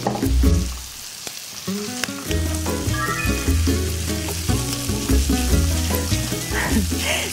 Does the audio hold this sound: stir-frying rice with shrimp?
yes